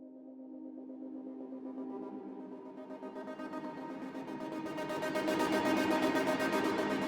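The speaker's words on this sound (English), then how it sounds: "So this is the Driving in Traffic Pulse preset." Infinite Upright piano library's Driving in Traffic Pulse preset: a sustained, pulsing piano-based texture whose modulation speeds up while distortion thickens, swelling steadily louder into a dense, gritty crescendo with no voices.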